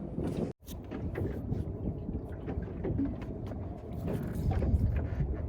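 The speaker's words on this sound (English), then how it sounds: "It's getting really windy." Steady wind roars and buffets across the microphone while fishing on the bay, a dense broadband rush with a brief dropout near the start, no voices.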